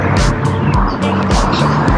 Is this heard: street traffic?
yes